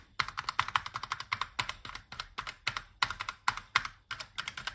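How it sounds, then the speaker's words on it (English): Keycaps snapped one after another onto a refurbished Partner 01.01 keyboard, a dense run of close, sharp plastic clicks in quick irregular bursts with short pauses between groups. "I'm going to put the keycaps back on"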